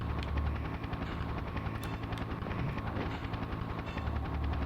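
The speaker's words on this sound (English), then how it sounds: "A helicopter?" A helicopter in the video game Shadow Man drones steadily with a fast rotor chop and engine whine, loud and continuous throughout with no talk over it.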